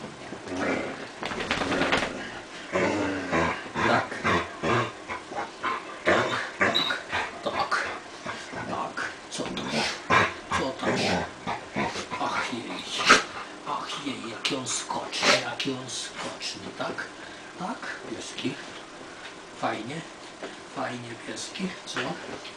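Dogs whimper, yip and grumble close by throughout, with restless, uneven bursts of sound as a person talks soothingly over them during an evening grooming session.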